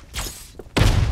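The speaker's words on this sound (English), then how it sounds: "Flashbang." A flashbang grenade in the video game Strinova goes off with a sudden loud, deep burst after a short whoosh, leaving a sustained roar.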